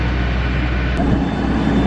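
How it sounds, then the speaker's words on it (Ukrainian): An airplane passes at an airport, producing a loud, steady broadband roar that swells slightly near the end, with no talking. "А, вон наступний літак."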